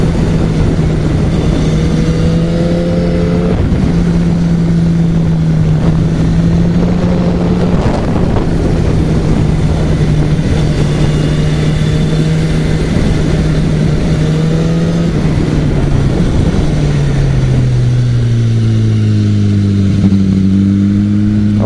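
A racing motorcycle on a track accelerates and brakes through a corner, its engine drone holding steady then dropping in pitch near the end, loud and continuous with wind buffeting the microphone.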